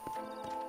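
Hooves clip-clop under a horse in Red Dead Redemption, a few quick muffled beats at moderate level close by, with no speech.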